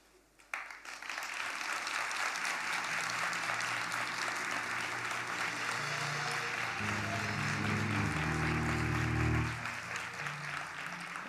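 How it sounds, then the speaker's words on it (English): Graduates at an autumn graduation ceremony for the Faculty of Law and Faculty of Health Sciences applaud themselves: loud, sustained crowd clapping that fills the hall for about ten seconds, with a low murmur and tonal sound swelling near the end before the clapping eases slightly. "Graduates, let's see how you applaud yourself."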